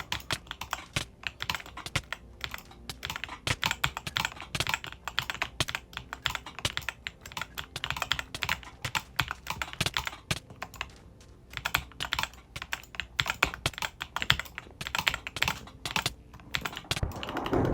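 A computer mouse is butterfly-clicked in a Bedrock game session, a dense, rapid stream of sharp clicks in bursts, close and continuous, without any talking.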